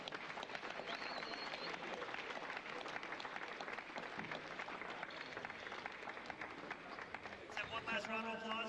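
Clapping from an audience at an awards presentation honoring three Skillman Award finalists, a steady dense wash of applause sustained throughout, with speech tones emerging near the end.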